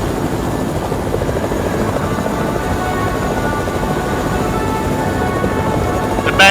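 A steady, loud helicopter rotor drone from the chopper in the Fortnite video game, continuous and close throughout with no talking.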